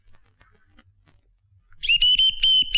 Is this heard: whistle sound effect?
yes